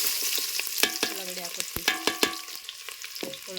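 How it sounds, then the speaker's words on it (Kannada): Chopped onions fry in peanut oil in a pan on a home stove, with a soft sizzle under frequent clinks and scrapes of a spatula stirring close by. "ಉಳ್ಳಾಗಡ್ಡಿ ಒಂದು ಸ್ವಲ್ಪ ಫ್ರೈ ಮಾಡ್ಕೊತೀನಿ"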